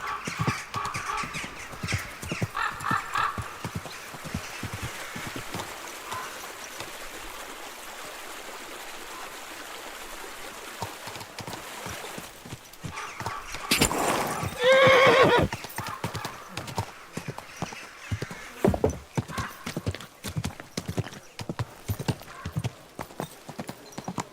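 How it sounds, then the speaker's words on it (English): Horse hooves clip-clop steadily in Kingdom Come Deliverance 2, with a loud whinny midway, over flowing-water ambience and scattered game sounds. "Easy, good horse."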